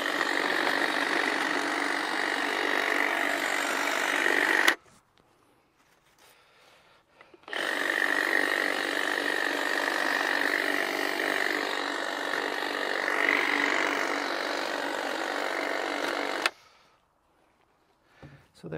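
A power hedge trimmer cuts back a Weigela shrub in two long, steady motor bursts with a short quiet break between them, loud and close.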